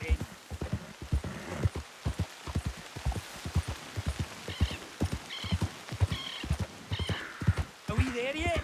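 Rhythmic clip-clop of horse hooves trotting steadily in the video game Red Dead Redemption 2, with occasional voices talking over the hoofbeats.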